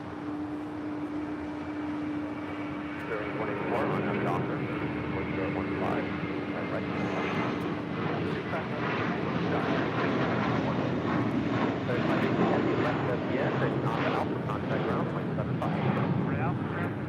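An MD-11 freighter jet lands heavily at LAX, a broad continuous engine roar and rushing airflow that swells and holds loud throughout, with a faint tone early on.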